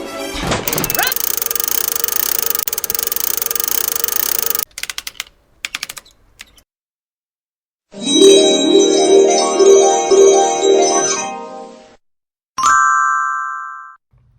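A mystery prize wheel spins with a fast rattling clatter, then comes a run of rhythmic bell-like ding tones and a final bright chime, loud and synthetic in sound, with no voices.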